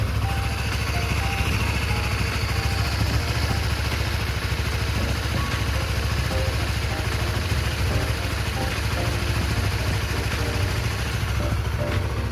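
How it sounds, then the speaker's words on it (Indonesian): A Honda Sonic 150 motorcycle with 50,000 km on it idles close by, a steady low rapid engine pulse holding even and unbroken throughout. "mari kita dengar dulu suara mesinnya sebelum closing ya kan"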